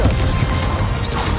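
Spell explosions from the video game Hogwarts Legacy form a loud, dense roar of blasts and crackling impacts that runs without a break from start to finish.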